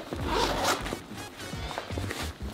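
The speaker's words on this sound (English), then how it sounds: "So we can unzip that. Zipper's in the back here." A laptop sleeve zipper on an Under Armour duffle bag is pulled open in a steady rasping run, close and fairly loud, with soft handling noises around it and no talking.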